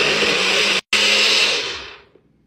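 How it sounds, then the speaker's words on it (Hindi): A blender purees tomatoes, green chillies and coriander with a loud, close whirring roar, briefly cut off once, then resumes and winds down to silence. "टमाटर, हरी मिर्चें और हरा धनिया को हम ब्लेंड कर लेते हैं।"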